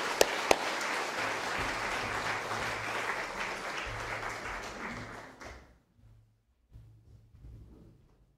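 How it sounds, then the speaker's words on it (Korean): A church congregation at a revival service breaks into sustained applause, dense and loud for about five seconds before fading, followed by scattered quieter clapping and room noise. "우리 강사님 마지막 시간 승리할 수 있도록 박수로 나오실 때 격려해 주시기 바랍니다."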